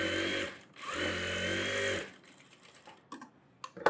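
A sewing machine runs two fast bursts of stitching along a blouse lining, loud and close, then falls quiet apart from a few small clicks and handling noises.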